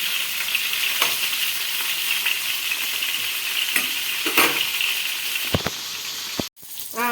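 Tomatoes and garlic frying in a pan give a loud, continuous sizzle with scattered stirring scrapes and a few sharper clacks toward the end, where the sizzle briefly drops out.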